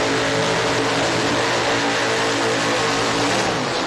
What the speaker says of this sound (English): Side-by-side burnouts.